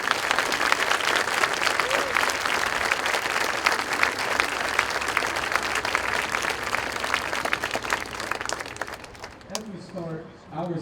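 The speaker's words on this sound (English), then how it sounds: "give that group a round of applause" A large crowd at a high school band event applauds loudly and steadily, the clapping continuing for several seconds before thinning out at the end as voices take over.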